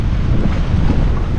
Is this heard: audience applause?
no